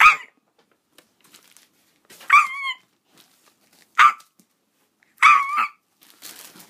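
A pet dog barks up close in a series of loud, sharp barks, about four bursts spread across a few seconds with quiet gaps between them.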